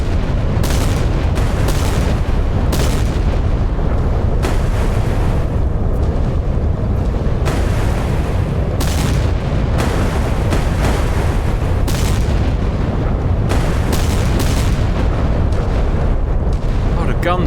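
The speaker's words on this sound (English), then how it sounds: "Oh, the gun's still going." Naval gunfire in the Sea Power naval combat game during a destroyer battle: a dense string of loud, punchy gun blasts repeating at irregular intervals over a constant rumbling bed of combat noise.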